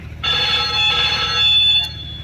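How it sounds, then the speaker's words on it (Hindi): A telephone rings with a loud, continuous electronic bell tone that holds steady for about two seconds, then cuts off, nearby in a quiet room. "देखना तो किसका फोन है?"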